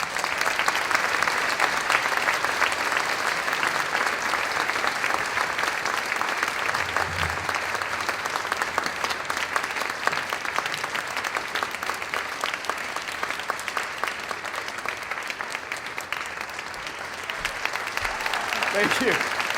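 Sustained audience applause welcoming Jess Cagle onto the stage at a red carpet evening event, a dense steady crowd clapping that holds strong for the full stretch with scattered cheers mixed in.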